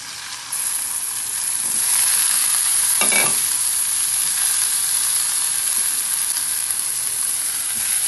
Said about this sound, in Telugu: వంకాయ ముక్కలు కూడా వేసేస్తున్నాం.